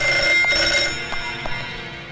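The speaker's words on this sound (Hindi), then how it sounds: "शायद उसी का फोन हो।" Telephone bell ringing in short bursts, loud and close, fading slightly toward the end with no talk over it.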